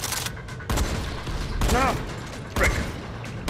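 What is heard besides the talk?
shotgun firing in the video game Dying Light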